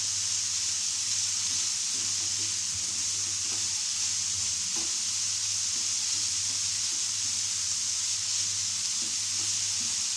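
Chopped vegetables and minced chicken breast frying in a pan, a steady close sizzle with faint scraping from stirring, continuous and even with no talking.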